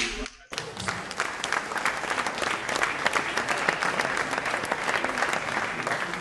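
Dense, loud audience applause for an award winner at an evening awards gala, starting abruptly after a brief moment and sustaining as a steady roar of many clapping hands.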